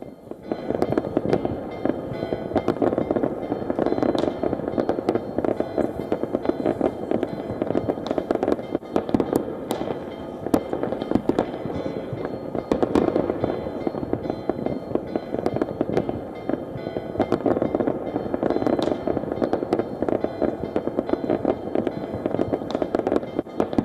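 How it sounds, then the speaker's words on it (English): New Year fireworks burst over the Acropolis in Athens, a continuous dense barrage of booms and crackles lasting throughout with no pause. "Greece ushered in the new year with fireworks over the Acropolis in Athens."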